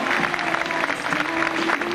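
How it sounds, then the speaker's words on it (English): Audience applause fills a school fashion show in Bandon, County Cork, steady and dense for two seconds, with a sustained tone running beneath the clapping. "Let's give her a big round of applause, folks"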